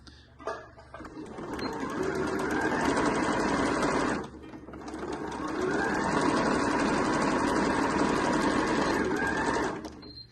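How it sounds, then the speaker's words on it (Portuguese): A domestic sewing machine stitching the ruffle of a skirt, running in two long steady whirring bursts, one of about four seconds and one of about six, separated by a brief stop, loud and close, no voices. "vou pegar aqui, direito com direito do meu babado e vou prender com o pé de máquina aqui"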